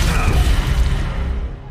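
A heavy gunshot boom rings out and decays into a rumbling echo, loud and close.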